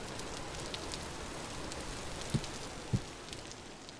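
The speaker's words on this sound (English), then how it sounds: "Placing that lock there actually causes the rain noises to stop." Rain falls steadily in the Vintage Story survival game, a dense even hiss of drops on surfaces with a couple of soft dull thuds partway through, no one speaking.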